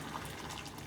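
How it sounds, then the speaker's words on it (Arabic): Boiling water is poured into a bowl to make a water bath for tarboush sweets, a faint, steady watery rush that lasts under a second. "فهنجيب بوله نحط فيها ميه"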